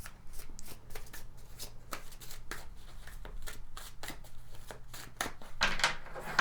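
Tarot cards are shuffled by hand in a quick series of crisp riffling flicks and soft slaps, fairly close and clear, with no talking.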